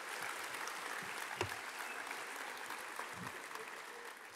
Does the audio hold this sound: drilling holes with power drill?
no